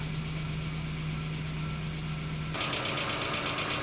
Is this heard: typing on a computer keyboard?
no